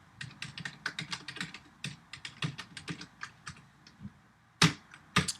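Code is typed on a computer keyboard in quick bursts of close, clicky keystrokes, with short pauses between runs and a couple of sharper key hits near the end.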